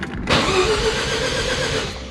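A Mazda RX7 FC3S rotary engine, run on a Haltech 1500 Elite, cranks and catches with a loud burst, then settles into a rough, steady idle up close.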